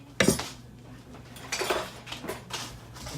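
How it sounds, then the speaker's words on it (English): A spoon scrapes and clinks against a bowl while chocolate is stirred into a granola mixture, a sharp knock at the start followed by a few softer scraping bursts, close and unaccompanied by talk. "and then you mix in your chocolate"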